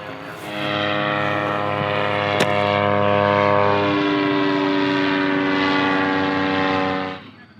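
A paramotor engine runs steadily after a pull start, a loud, close, sustained buzzing drone with a sharp click early on, holding at a high idle for several seconds before cutting off abruptly near the end.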